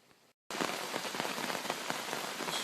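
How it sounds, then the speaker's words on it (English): Heavy rain falling outside sets in after a brief silent gap, a loud dense steady hiss of drops on surfaces that continues without pause, with no voices. "Been raining good now for a half hour"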